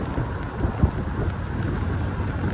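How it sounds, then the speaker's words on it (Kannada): Rain falling on the way to Mookanamane Falls, a steady close wash of drops with a single low thump partway through, no voices. "ಕರೆಕ್ಟ್ ಟೈಮಿಗೆ ಮಳೆ ಬಂತು"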